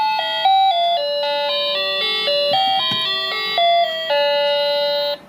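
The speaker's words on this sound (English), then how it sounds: "the last music that appear, that you choose, it will be the doorbell default" A cheap wireless doorbell chimes a bright electronic melody of clear stepped tones for about five seconds, close and steady, with no one speaking.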